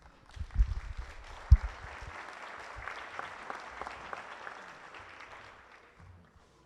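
An audience applauds a show band performance, a burst of many hands clapping that swells, holds, then gradually thins and fades away, with one sharp knock early on.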